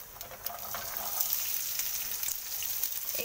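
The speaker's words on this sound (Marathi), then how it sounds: "इथे मस्त धने, जिरे, मोहरी, लसूण मस्त तळतळली आहे" Coriander seeds, cumin, mustard seeds and garlic fry in hot oil with a steady, dense crackling sizzle that holds at an even level throughout, without talk.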